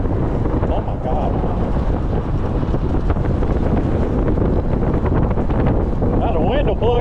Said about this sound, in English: Ooh, the wind is strong up here, man.